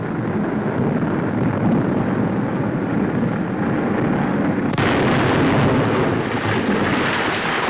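Bombs from a bomber aircraft detonate on target in a continuous deep rumbling roar, with a sudden louder burst partway through that keeps booming.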